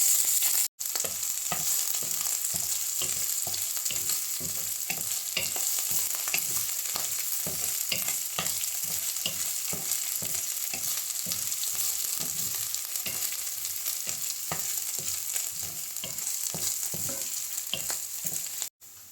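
Ginger and garlic frying hard in oil over a high flame, a loud, steady sizzle that runs unbroken and close, with faint stirring taps scattered through it.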